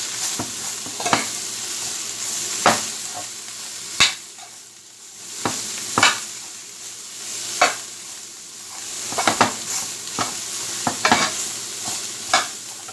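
Chicken and vegetables stir-frying over high heat, a steady loud sizzle broken by repeated sharp scrapes and tosses of the pan every second or two.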